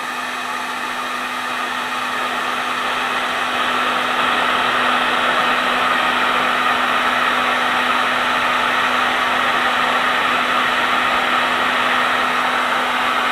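A heat gun blows hot air steadily over material being stretched into faux icicles, a constant close whooshing roar with a fixed motor hum that swells slightly after the first few seconds and holds unbroken.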